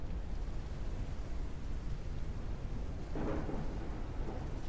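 Thunderstorm in the video game Forever Skies: a steady roar of rain and rumbling storm noise fills the scene, with a louder rolling thunder burst rising near the end.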